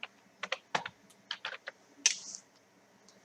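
Close, soft keystrokes tap out a short folder name on a computer keyboard in a quiet room, a handful of uneven clicks ending in a firmer final press.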